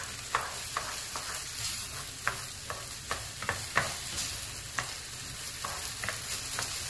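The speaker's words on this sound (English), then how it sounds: "you're supposed to toast the rice before you cook it" Rice toasting in a hot pan for coconut cilantro lime rice, with a steady sizzle and irregular scraping stirs clicking against the pan, close and alone with no talk.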